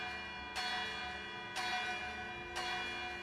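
Three evenly spaced bell strikes, one about every second, each ringing out with a bright metallic tone that hangs and decays, used as a tabletop Dungeons and Dragons sound effect.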